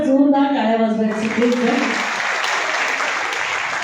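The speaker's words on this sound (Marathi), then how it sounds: "पण एकदा जोरदार टाळ्या वाजवायची." A ceremony audience breaks into loud, dense applause that swells after a short stretch of speech and carries on steadily to the end.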